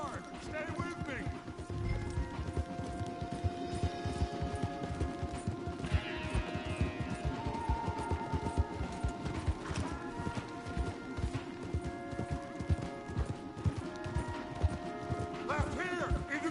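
Horses gallop in a fast, steady clip-clop under a swelling musical score, with voices talking over the action, in the video game Red Dead Redemption 2.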